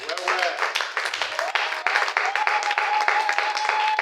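Church congregation cheering and clapping for the Lord, a dense wash of applause with shouted acclamations and raised voices, steady and fairly loud throughout.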